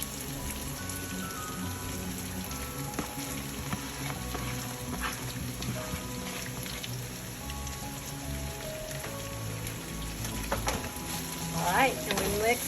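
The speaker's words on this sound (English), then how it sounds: "So now I'm going to toss in the green leaf onion." Green leaf onion tossed into a hot frying pan for an oolong sea bass dish, giving a steady close sizzle and crackle throughout with clinks and stirring near the end, no talk.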